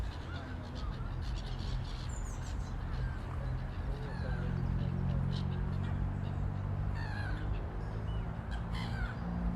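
Loud, busy birdlife at a lake: honking ducks and cawing crows call repeatedly over a steady low rumble, with occasional chirps in the distance.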